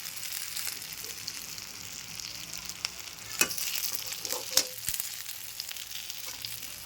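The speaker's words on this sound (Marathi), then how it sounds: "मिरची शिजत आली की अशी फुटते पहा किती सुरेख दिसतीये" Green chillies fry in a pan, a steady oily sizzle punctuated by several sharp pops and crackles as the skins burst, close and clear with no talk.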